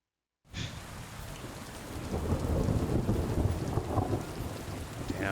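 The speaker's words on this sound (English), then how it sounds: "Damn, gnarly storm." A heavy thunderstorm rolls through in Kingdom Come: Deliverance II, dense rain hissing and drumming over low thunder rumble, starting abruptly and building louder throughout, with no talk.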